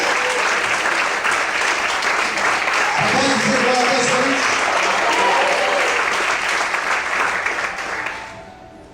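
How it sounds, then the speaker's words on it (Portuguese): A church congregation applauds in sustained, dense clapping during a Portuguese-language service, with a pastor's voice speaking over it before the applause fades out near the end. "Quantos podem aplaudir e glorificar o Senhor?"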